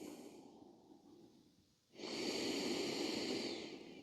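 Deep breathing during a yoga practice for emotional release: a soft, steady exhale gives way to a louder, fuller breath that swells and holds for about two seconds, close and unaccompanied by speech.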